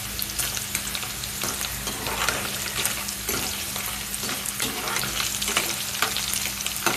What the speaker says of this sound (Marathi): हे फास्ट गॅसवरच पनीर ब्राऊन करून घेते.